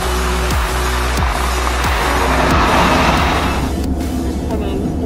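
A 316-horsepower Honda Civic Type R FK8 hot hatch is driven on the Silverstone circuit. Its engine drones loudly and close, with repeated rising gear pulls and tire and road noise, and no talk over it.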